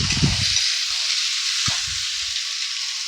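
Mashed boiled potato sizzles in a hot pan for poha kochuri, a steady loud frying hiss with a few soft stirring knocks near the start.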